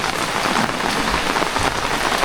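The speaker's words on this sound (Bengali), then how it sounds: "ঝিম ঝিম বৃষ্টি পড়তেছে" Steady drizzling rain falling since before dawn on a village homestead with papaya, mango and jackfruit trees, an even, close patter of drops on surfaces with no voices.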